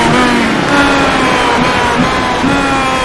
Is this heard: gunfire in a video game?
no